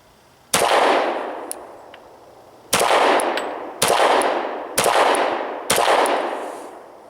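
A Beretta 96 Brigadier Elite II pistol fires five Ranger T rounds: one loud, sharp report, a pause of about two seconds, then four more in a steady, quicker rhythm, each followed by a ringing, echoing decay, with no voices.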